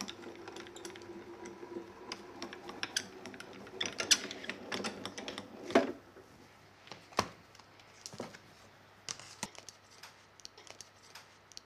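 Die-cutting machine rolling plates through for a craft project, quiet mechanical clicks, knocks and cranking rattles in an uneven rhythm, close and fairly faint.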